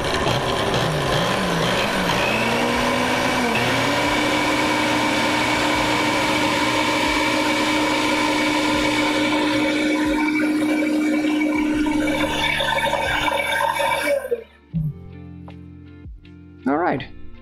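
A blender pulsing a corn milk mixture whirs loudly for about fourteen seconds, its motor whine shifting in pitch as it runs, then stops, followed by a few short sounds and brief voices.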